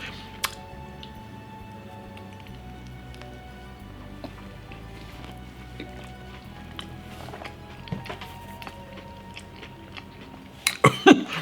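A Crumbl cookie topped with toasted pecans is chewed close to the mic, with soft irregular crunches and mouth sounds over a quiet background, ending in a burst of louder rustling and clatter.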